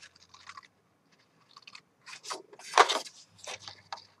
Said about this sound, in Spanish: vamos a tomar nuestras tijeras